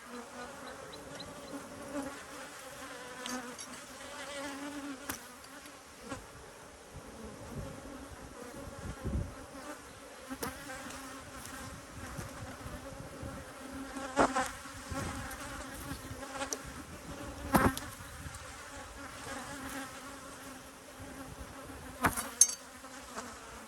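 Honey bees swarm inside an open hive box, their dense, steady buzzing filling the air continuously with close, rising swells and occasional sharper passes of individual bees near the listener.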